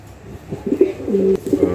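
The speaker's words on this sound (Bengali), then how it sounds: "এখানে চমৎকার কোয়ালিটির একজন মডেনা কবুতর আছে" A Modena pigeon coos close by in a pigeon loft, a series of soft, low, throaty rolling coos rising and falling in a steady rhythm, with no talking.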